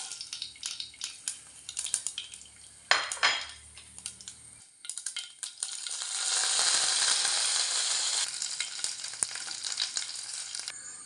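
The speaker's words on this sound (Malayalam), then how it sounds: "ഉലുവ ഇട്ട് കൊടുക്കാം. കടുക് ഇട്ട് കൊടുക്കാം." Fenugreek and mustard seeds hit hot oil for onion sambar: sharp pops and clinks of a pan and utensil, then a loud sustained sizzle that crackles on for several seconds.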